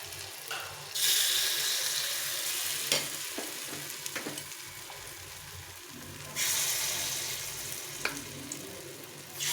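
Rice batter is ladled into a hot, lightly oiled appam pan, hissing and sizzling in loud bursts, with clinks and scraping of utensils between quieter stretches.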